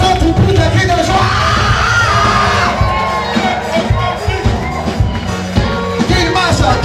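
Large worship crowd at a church healing service in Benin shouting and yelling cries of joy, a loud continuous mass of voices and whoops filling the whole stretch.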